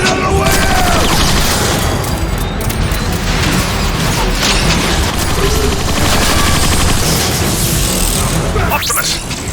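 Gunfire and explosions roar nonstop in a Transformers: Fall of Cybertron battle, where a grenade burst is mixed into rapid, dense weapon fire. Loud, continuous combat din under voices and game effects.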